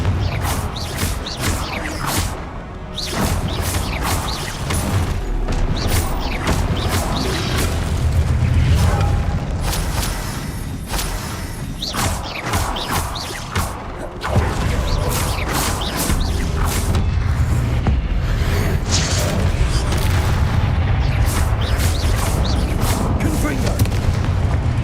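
Confringo blasting spells explode repeatedly in Hogwarts Legacy, loud booming blasts mixed with combat noise and game sounds over a continuous din, with a voice talking now and then.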